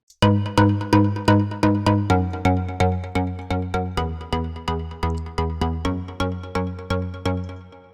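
A Spire synthesizer playing a steady sequence of repeated chords, each struck cleanly and decaying quickly, with a pulsing rhythm and no voices.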